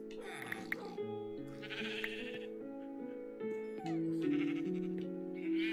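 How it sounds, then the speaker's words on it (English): Several sheep in the video game Minecraft bleat in overlapping calls, close and clear, one after another with no talking. "Bunch of sheep, okay."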